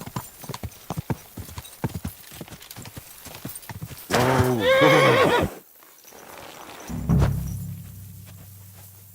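A horse in the medieval game Kingdom Come: Deliverance II clip-clops along in a quick steady rhythm, then gives a loud, close whinny; a man briefly calls out to it.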